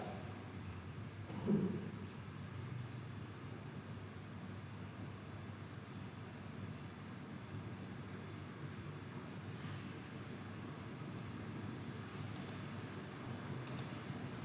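Mouse clicks while navigating a journal editing system on a computer, a few faint, sparse clicks over a quiet room hum, with a brief louder click early and a couple of small ticks near the end.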